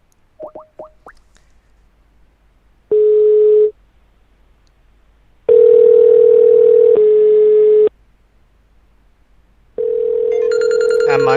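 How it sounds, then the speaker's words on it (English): Outgoing Skype call tones: a few short blips, then three long, steady electronic ringback tones separated by silences, loud and clean with no other sound. "Now I'm going to make the call using Skype."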